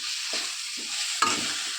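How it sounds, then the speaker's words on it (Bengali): Fried pieces stirred into ginger-garlic masala in a pan, a low steady sizzle broken by three scraping strokes of a spoon, the last one louder, no talk. "দিয়েও ভালো করে একটু নেড়ে চেড়ে নেবো"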